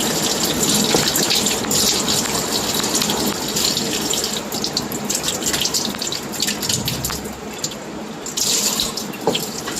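A kitchen tap runs in a strong, continuous gush while coconut burfi is being made, the splashing stream steady and close throughout with no voices.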